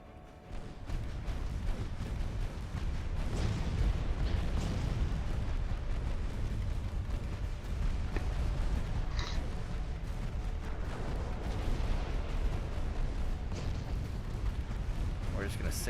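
Naval guns on warships in Ultimate Admiral Dreadnoughts produce a continuous deep rumble of heavy gunfire and distant booms, blending into a dense, steady roar of battle throughout.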